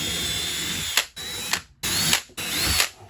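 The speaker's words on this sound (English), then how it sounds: "Get the drill out, drill you some pilot holes so you don't split it." Power drill boring pilot holes into a 2x3 wooden board, three loud sustained whirring runs separated by brief stops, close up with no talking.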